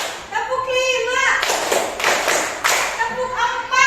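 Children in a classroom clapping in a counting clap game, several quick rounds of loud clapping between bouts of rhythmic group chanting, close and lively.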